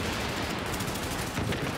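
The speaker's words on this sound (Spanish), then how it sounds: "un par de tiros, uno por aquí, otro por ahí" Rapid gunfire from the video game The Division fills the entire stretch, a dense, continuous burst of loud shots with no pause and no talking.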